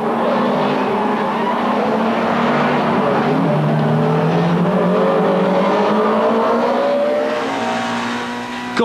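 Peugeot 306 touring cars of the 1998 Belgian Procar series racing in a tight pack, engines loud and close with rising and falling revs as cars jostle and pass, a continuous roar throughout.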